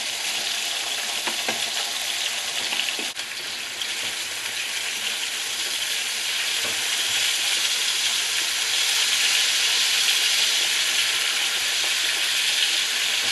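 Streaky bacon fries in a pan beneath a splatter guard, giving a steady, close crackling sizzle that runs unbroken for over ten seconds and swells slightly louder toward the end.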